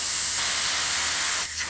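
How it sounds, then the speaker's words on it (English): Compressed air blasts steadily from a nozzle to blow out a carburetor on a Ford tractor, a loud broadband hiss lasting more than a second before briefly easing. "Well, I had to go turn the compressor back on. We're just going to blow it out there."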